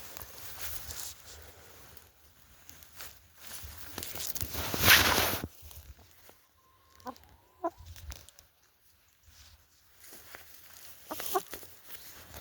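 Chickens clucking in a farmyard among other poultry, with a few scattered short calls and a brief loud rustle or thump partway through, fairly close against quiet outdoor background, no talking.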